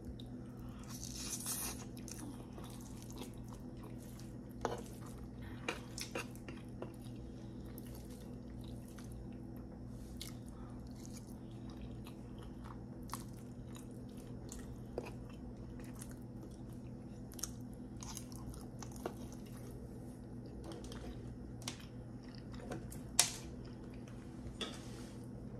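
Someone eats extra-hot spicy chicken wings alongside cheddar pasta. Quiet bites, wet chewing and occasional crunches come close and intermittent over a low steady background hum, with no talking.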